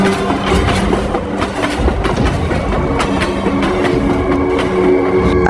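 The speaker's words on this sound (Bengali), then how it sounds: "কিছুক্ষণের মধ্যেই ট্রেনটা গন্তব্যে এসে থেমে গেল।" A train rumbles along with a loud, continuous roar and rhythmic clickety-clack of wheels on rail joints, steady from start to finish with no clear slowing or stop.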